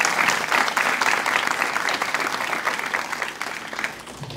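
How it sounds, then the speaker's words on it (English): Evening symposium audience gives a round of applause for three environmental research finalists, dense continuous clapping that stays full and loud before thinning slightly at the end. "another round of applause for all three of our finalists this evening"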